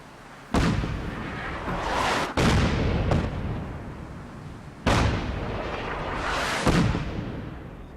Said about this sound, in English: It's a pretty big fucking area of bombardment.